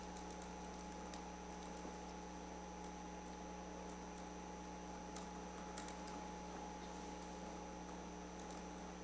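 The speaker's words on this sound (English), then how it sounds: "I'm just typing up what was just said." Typing on a computer keyboard during a village plan commission meeting, faint scattered key clicks under a steady hum of room noise, with no one speaking.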